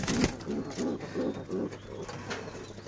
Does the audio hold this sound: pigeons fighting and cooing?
yes